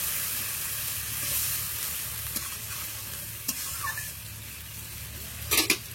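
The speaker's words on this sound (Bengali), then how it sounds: "মশলা ধোয়া জল দিয়ে দেব।" Water used to rinse spices is poured into a pan of frying spices, producing a steady low sizzle and bubbling with a stirring spoon scraping now and then, a sharper clatter near the end.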